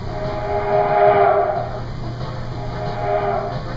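A narrow gauge steam train with 3-foot gauge cars built for the Denver and Rio Grande Railway rolls past, a loud steady rumble with rising and falling chuffing swells and no voices.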